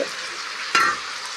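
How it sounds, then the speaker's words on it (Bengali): Spice masala for chicken curry frying in a pan, a steady close sizzle with a brief louder burst as it is stirred, no speech. "এবার মশলাটা দিয়ে দেবো কিছুক্ষণ ভেজে নিয়েছি"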